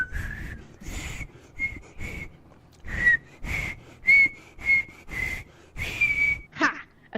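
A person whistles a halting, breathy tune, short airy bursts and a few clear pitched notes separated by pauses, alone and fairly close.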